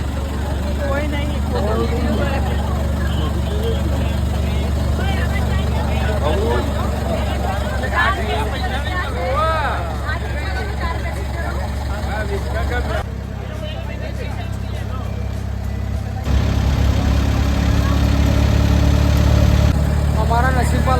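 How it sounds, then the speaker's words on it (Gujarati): A motor boat engine drones steadily on the Ganges at Varanasi at night, a constant loud low rumble under chatter from a crowd of passengers, the noise briefly dipping before swelling again. "અત્યારે અમે બોટમાં બધા ટ્રાવેલ કરી રહ્યા છીએ"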